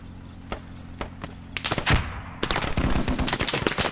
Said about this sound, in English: I have no idea where those shots are coming from